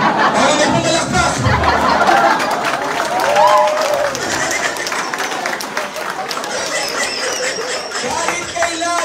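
An audience at a motivational closing talk claps and chuckles, a dense wash of clapping mixed with laughter and crowd chatter, while a voice carries on over it.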